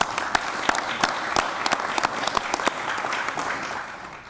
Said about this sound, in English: Let's give them one final round of applause here.